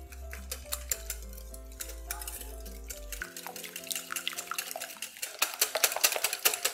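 Eggs and powdered sugar whisked together in a bowl, making quick rhythmic clinks and taps that grow busier and louder over background music.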